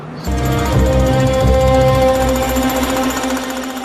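A pneumatic jackhammer pounds away while police smash apart an entire kitchen, a loud, steady mechanical hammering close by with a constant droning rattle for several seconds, no voices.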